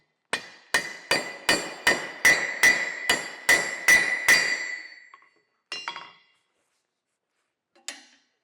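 Hammer blows ring on a small anvil as hot metal is bent at a forge, about ten sharp, evenly spaced metallic strikes in quick succession, then a pause and two more isolated taps, close and loud with no talk.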